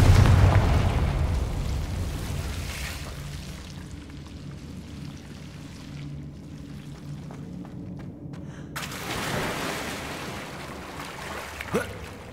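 The Confringo fire spell in the Hogwarts Legacy video game bursts in a loud, rumbling blast at the start, fades into low rumbling, then a second whooshing burst swells near the end with a sharp pop.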